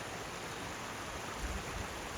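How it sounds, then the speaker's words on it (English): Steady broadband rush of a waterfall pouring down a cliff face beside a stream in Glacier National Park, a constant hiss of falling and flowing water heard alone with no voices. "Just a gorgeous waterfall coming down this whole cliff face"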